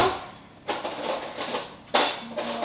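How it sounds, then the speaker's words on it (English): Metal spoons rattle and clatter in a drawer or pot while being rummaged for a tiny one, two bursts of jangling with a short pause between, close and loud. "I think I should find a tiny spoon from in here."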